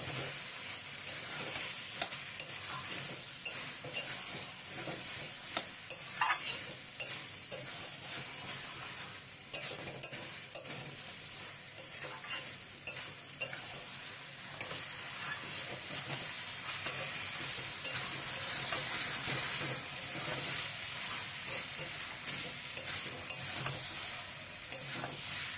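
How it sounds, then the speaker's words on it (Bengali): Beans and peas curry stirred and sautéed in a pan with a little sugar added, giving a steady soft sizzle and frying hiss with scraping stir strokes throughout, close and continuous. "এবার মোটামুটি আমার বিনসটাকে ভালো করে কষিয়ে নিয়েছি"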